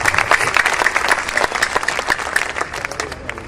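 Dense, loud audience applause at a Hindi poetry recitation, many hands clapping close and steady before gradually thinning out toward the end.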